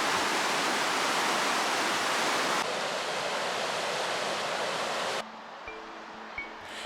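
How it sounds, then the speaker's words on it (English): A river runs fast beside a marina during rough winter weather. A loud, steady rush of water fills the first five seconds, then falls to a quieter wash with faint tonal sounds. "check out the flow of the river up here next to the marina"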